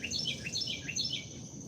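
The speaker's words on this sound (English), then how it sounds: "I see the birds so loud this morning." Several birds chirp and tweet loudly in the morning, with quick bright calls repeating over a steady low outdoor background and no talking.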